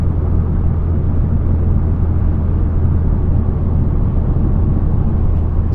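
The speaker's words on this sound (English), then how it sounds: "I wouldn't say that this is drone, this is like exhaust sound to me." A steady, loud, low exhaust rumble from a car in motion after a DIY exhaust drone fix, droning continuously with road noise and no voices.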